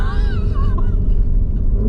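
A 640 hp Porsche Cayenne Turbo GT launches hard from a standstill, a loud, deep engine roar and rumble heard from inside the cabin, steady and continuous with a rising tone, no talking.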